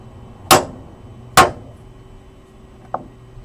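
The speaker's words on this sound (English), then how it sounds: "you're using kind of a small hammer" A small hammer strikes the metal rear axle of an MGB twice with sharp, ringing metallic clanks about a second apart, followed by a lighter, fainter tap, close up with no talking.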